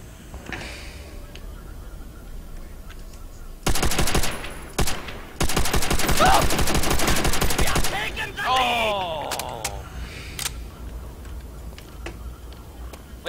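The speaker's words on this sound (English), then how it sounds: "Did you hear gunshots?" Gunfire in the Call of Duty World at War video game bursts out in two loud rapid volleys mid-clip, between quieter stretches with some faint clicks and background game noise.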